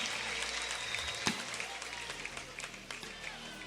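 A church congregation claps in a steady, dense wash of applause that fills the room, with a preacher's voice speaking over it and a few sharper claps standing out near the middle.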